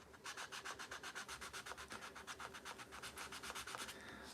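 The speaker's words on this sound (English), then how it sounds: "We'll just use this sandpaper real quick." Sandpaper rubbed by hand in quick, regular back-and-forth strokes, about five per second, close and fairly quiet, with no talking.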